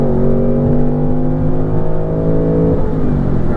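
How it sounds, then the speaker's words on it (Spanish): A 2024 Ford Mustang GT's 5.0-litre V8 rumbles loud and close, holding a deep steady rev that swells slightly toward the end, with no talk. "Y está el sonido verdadero de un Mustang"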